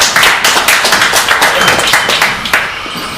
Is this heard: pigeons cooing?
no